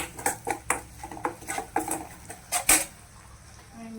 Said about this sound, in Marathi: याला मिक्स करायचं।